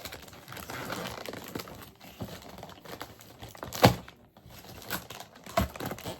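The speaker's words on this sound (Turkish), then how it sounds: "kutuyu değil paketi yırtıyorum bu arada" A stiff plastic package is torn open by hand at close range in a quiet room, making scattered crinkles and rips with a few sharper tearing bursts.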